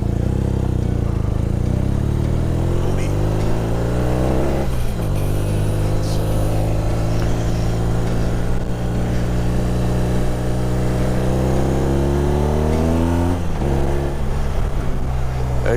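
A heavy police motorcycle engine revs up and down in long rising pulls, loud and close, with brief dips between gear changes and no talking.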